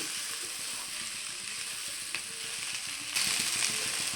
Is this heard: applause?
no